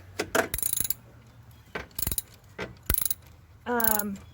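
A ratchet clicks in short bursts while loosening the alternator belt tension on a 2010 Scion xD. The clicks are close and sharp, with pauses between bursts and a brief metallic scrape near the end.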